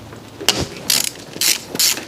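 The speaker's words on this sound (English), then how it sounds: "Break them loose." A ratchet wrench breaks loose 12 mm bolts on the front hub of a QuadRacer quad, giving several short bursts of rapid, close mechanical clicking with brief pauses between pulls and no talk.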